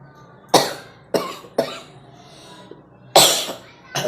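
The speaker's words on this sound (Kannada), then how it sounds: "ಆದರೆ ಕೆಮ್ಮು ಬಂದಿದೆ" Several sharp, harsh coughs from a person with a persistent cough, heard close and loud in separate bursts with quiet breathing gaps between them.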